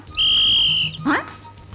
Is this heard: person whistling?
yes